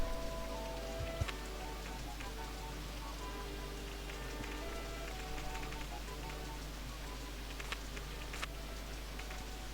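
Steady rain pattering on surfaces throughout RollerCoaster Tycoon 1, a dense even hiss of drops with a few brief sharper ticks, continuous and moderately loud with no voices.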